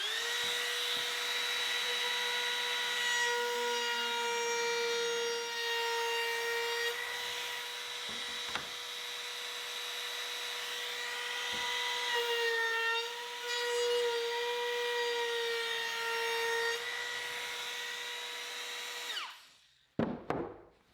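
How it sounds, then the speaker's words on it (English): A router fitted with a chamfer bit cuts along the edge of a 1x4 board, a sustained high whining tone that wavers slightly in pitch as the cut progresses, then winds down with a few knocks at the end. "I'll use a chamfer bit to put a slight chamfer on the edge of a 1x4"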